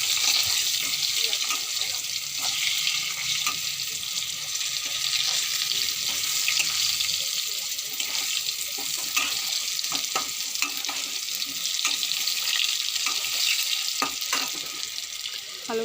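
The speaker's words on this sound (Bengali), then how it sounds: "আলুটা লাল লাল করে ভেজে নেব।" Potatoes fry in a pan, giving a steady, close sizzle that runs the whole time, with faint clicks and scrapes of stirring mixed in.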